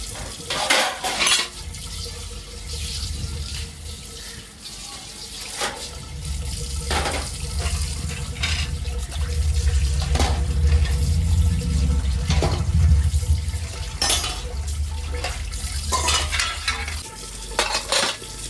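Brass puja utensils being scrubbed and rinsed under running water, metal clinking and scraping in bursts over a steady rush from the tap, close and fairly loud.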